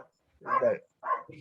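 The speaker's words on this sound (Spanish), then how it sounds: "Disculpen el perro de fondo." A dog gives two short barks, close and fairly loud, separated by a brief pause, in a quiet indoor room.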